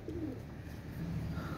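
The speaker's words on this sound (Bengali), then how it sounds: "অনেক সুন্দর হাই কোয়ালিটির কবুতর।" Pakistani Rampuri pigeons coo softly nearby, a few low throaty calls over faint background hum, quiet and without talk.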